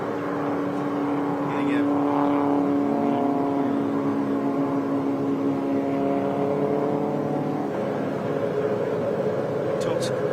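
A race car's boxer engine drones and revs through its gears on a lap at a motorsport event, pitch rising and falling steadily, loud and continuous, with talk faintly underneath.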